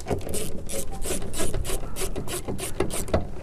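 Screws being backed out of the speaker mount in a Ford F150 door panel, giving a rapid, close ratcheting rasp of repeated clicks that runs steadily with no talk.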